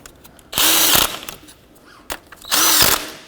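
Power tool on a 2007-2009 Saturn Aura intake bracket gives two short, loud whirring bursts close by, snugging bracket bolts with a clunk between them.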